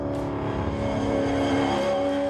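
Nissan V8 race car engine, a motorsport-developed unit, humming steadily and close with strong tonal harmonics, the pitch climbing slightly as it revs.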